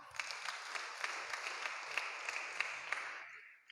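Church congregation clapping together in a room, a dense burst of applause with sharper individual claps poking through, moderately distant and steady before fading out at the end.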